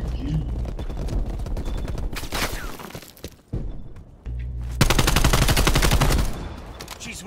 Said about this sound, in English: Using an SMG.